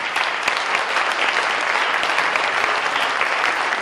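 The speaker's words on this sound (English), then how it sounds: "Please stand and let's just give them a quick round of applause." Audience at an all-candidates forum in West Kelowna applauds veterans standing in the room, a steady, dense round of clapping from many hands, fairly close and sustained throughout with no talk over it.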